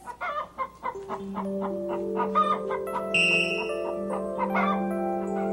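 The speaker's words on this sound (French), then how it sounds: "Écoute, poule, pond un œuf." A hen in a 1987 animated film clucks in quick, separate bursts, followed by longer drawn-out tones that hold steady for several seconds.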